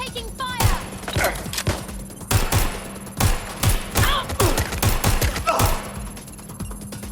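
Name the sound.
gunfire in video game Watch Dogs: Legion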